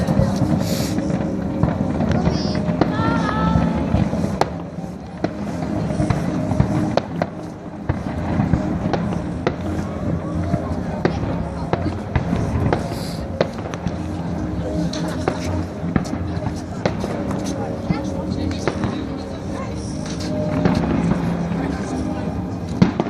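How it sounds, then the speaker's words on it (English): Bonfire night fireworks, with repeated pops and crackling bursts at a moderate distance over wind noise. Voices talk throughout. "what do you think about the fireworks?"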